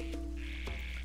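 A frog croaks in The Legend of Zelda: Echoes of Wisdom, set in the Faron Wetlands, giving a few short croaks over a steady, quiet game ambience with no speech.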